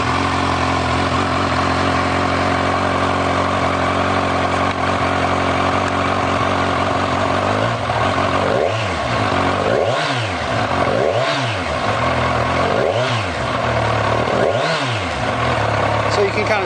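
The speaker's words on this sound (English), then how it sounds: "let's push the button and we'll crank it up and take a look at that tachometer" A brand-new motorcycle engine runs steadily at idle, then swells through several short revs in a rhythmic series, loud and close.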